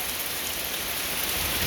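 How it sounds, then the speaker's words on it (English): Heavy rain from a pop-up storm pours down in a dense, steady hiss, constant and enveloping with no voices. "I know it's raining outside"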